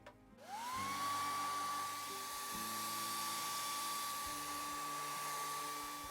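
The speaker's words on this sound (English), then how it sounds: "I'm going to use my blow dryer" A blow dryer runs continuously while drying an acrylic painting: a loud steady whine starts up, rises quickly, then holds an even pitch over a rushing airflow.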